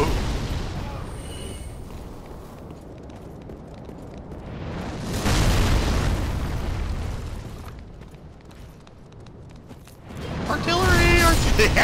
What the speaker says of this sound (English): Artillery. Yeah, that's Artie support.